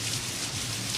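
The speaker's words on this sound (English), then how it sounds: "It's raining inside the store." Rain falling indoors inside a store as a TV show sound effect, a steady close hiss of drops pattering on surfaces, continuous and even with no voices.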